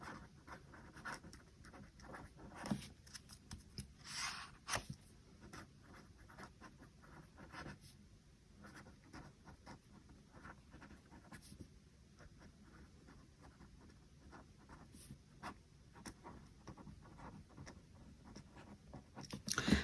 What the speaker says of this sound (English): We're just writing down real quick.